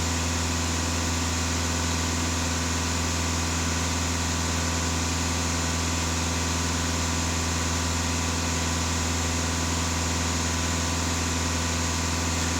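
Volkswagen Passat B8 engine running at steady idle during an EGR and emissions-system cleaning, a constant close, even hum with no clear rev rise and no talking.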